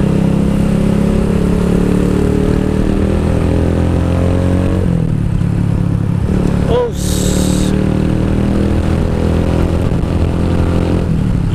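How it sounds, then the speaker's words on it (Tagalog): A Keeway CR152 motorcycle fitted with a beer bottle exhaust pipe runs loud and close in a semi-closed garage area, its steady throbbing idle shifting pitch partway through. "narinig nyo kanina yung tunog ng beer bottle pipe"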